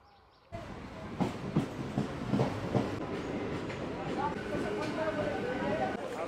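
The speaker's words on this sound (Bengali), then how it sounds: "ট্রেন ঢুকে গেছে।" Crowded local train in Kolkata pulling into a station, a sudden rise into loud rumbling and rhythmic wheel clatter that keeps rolling steadily, with a voice speaking over it.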